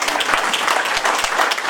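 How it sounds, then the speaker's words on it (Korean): Audience applause at a Daegu citizens' town-hall Q&A with politician Ahn Cheol-soo, a dense wash of many hands clapping steadily and fairly loud for under two seconds, with no voice over it. "디테일하신 우리 안영께 박수 한번 주시죠."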